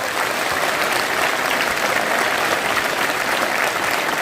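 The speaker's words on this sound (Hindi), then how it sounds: "दोनों हाथ उठाकर एक बार जोरदार इनके लिए दोबारा आप लोग ताली बजाएंगे" An audience at a motivational seminar held at a modern school claps hard with both hands raised, a loud, dense, sustained burst of applause filling the hall.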